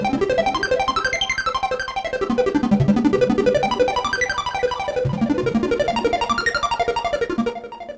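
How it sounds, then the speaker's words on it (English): Codex synth arpeggiator on the Basic Pulse ARP 1 preset, rippling rapid pulsing notes that sweep up and down in repeating patterns, bouncing between left and right channels, loud and continuous with no voices. "Here is the Codex Basic Pulse ARP 1, which is a really nice arpeggiator"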